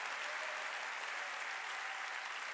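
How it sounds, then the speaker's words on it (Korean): A church congregation at a Wednesday service breaks into applause, a dense, even patter of many hands clapping at once, held steady for a couple of seconds with no speech over it. "깨달은 사람은 박수."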